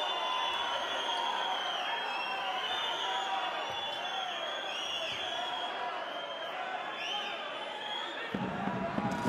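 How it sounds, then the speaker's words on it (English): Basketball arena crowd in a Champions League game between Montakit Fuenlabrada and JDA Dijon, a loud sustained roar of disapproval after a foul call, with rising whistles and jeers throughout. "The crowd don't like it, but why should they?"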